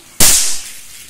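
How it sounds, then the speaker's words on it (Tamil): A Diwali firecracker goes off in Mauritius with one sharp, loud, close bang, followed by a brief hissing crackle that fades quickly, and no voices. "இப்ப வந்து கீழே போயிட்டு வெடியெல்லாம் வந்து வெடிக்க ஆரம்பிக்கலாம்."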